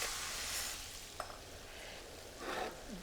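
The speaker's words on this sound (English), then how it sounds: "add this to what I'm sauteing in the soup" Corn and vegetables sauteing in a soup pot make a steady, hissing sizzle throughout, with a brief tap near the middle and a louder stirring swell toward the end.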